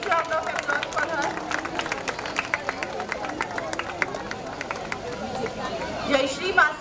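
An audience at a school prize distribution claps steadily, the applause moderately loud and sustained, with crowd chatter and murmuring running underneath.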